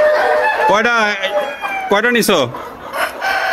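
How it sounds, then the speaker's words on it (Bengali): Chickens at a hatchery farm make loud, close drawn-out crowing and clucking calls in two main bursts, with a voice speaking briefly over them. "একটা মুরগির হ্যাচারিতে মুরগিগুলি চোখের সামনে দেখতে পারলাম"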